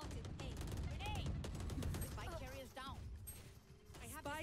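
Rapid-fire Outlaw rifle shots in a video game, a string of sharp bursts spread across the moment, mixed with game effects and voices talking throughout.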